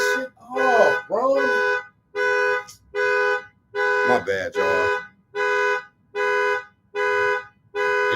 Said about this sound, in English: alarm just keep going off